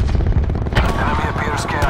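Rapid gunfire in Call of Duty: Black Ops 4 during a Team Deathmatch on the Gridlock map, loud and dense bursts with rumbling impacts, and voice chatter layered over the shooting.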